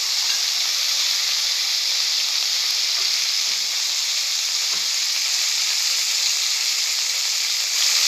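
Chopped okra frying in hot oil for a Bengali okra dish, a loud, dense, continuous sizzle and hiss that holds steady throughout with no talking.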